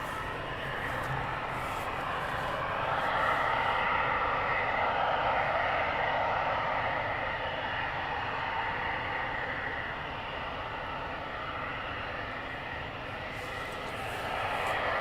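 Training aircraft, a BAE Hawk T2 or Texan T1, approaching runway 31 at RAF Valley while flying a practice engine failure, heard as a steady distant jet roar that swells slightly and then eases over about fifteen seconds, with no talk.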